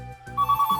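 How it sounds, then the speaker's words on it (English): A phone ringtone sounds in a large Victorian home, a short bright electronic warble of repeated pulses that starts suddenly and stays loud for under a second. "phone call"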